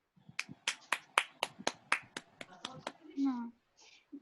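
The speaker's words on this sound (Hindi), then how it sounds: "जोरदार तालियां हो जाए ध्रुव और सिद्धार्था के लिए" About a dozen distinct, evenly spaced claps for Dhruv and Siddhartha at a school Independence Day program, close and fairly quiet, likely from a small group on a call, ending with a brief voice sound.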